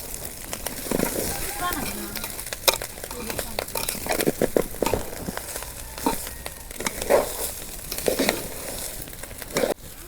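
Rice stirred and fried in a pan for egg biryani: steady sizzling and frying crackle with repeated scraping and stirring strokes, close up, while a voice talks over it.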